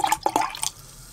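Oettinger Malz beer pours into a glass in a short splashing trickle with a few liquid drips and gurgles, close and fairly loud, then trails off into quiet.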